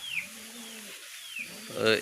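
Pigeons coo softly in a low, repeated murmur on a morning outdoors, with a brief brighter call near the end.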